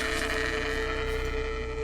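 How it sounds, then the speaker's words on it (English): An angry sheep bleats in the video game Northern Journey, a loud, continuous, harsh bleat held through the whole clip over a dense droning game background. "That's one of those mad sheep!"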